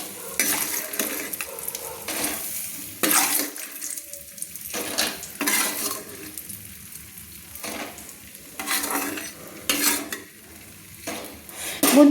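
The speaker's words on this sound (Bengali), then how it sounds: "আমি হালকা লাল লাল করে একটু মুচমুচে করে ভেজে নিয়েছি বড়িগুলো" Lentil dumplings (bori) fry in oil until crisp and are lifted out with a spoon, giving a steady sizzle broken by bursts of stirring and scraping clatter close by. No one speaks.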